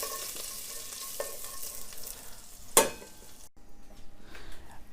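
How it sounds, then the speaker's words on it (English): Turmeric being stirred into vegetables in a pan, a soft scraping and gentle sizzle with one sharper knock of the utensil against the pan partway through, fairly quiet overall. "then you stir it in"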